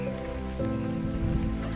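Heavy rain falls during a Nuakhai and Ganesh puja festival day, a dense continuous patter on surfaces nearby, with a low droning tone running underneath.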